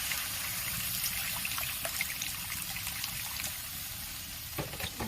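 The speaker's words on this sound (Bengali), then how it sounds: "এবার এখানে আমি একটু পরিমাণ মতো এবার জল দিয়ে দেবো।" Water poured into a pan of Bengali fish roe curry after the spices have released their oil, a steady close trickle running for several seconds with a small splash near the end.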